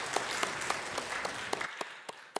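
A church congregation at a Sunday worship service gives a short round of applause, a lively patter of many hands with a few sharp individual claps standing out, tapering to sparse claps at the end.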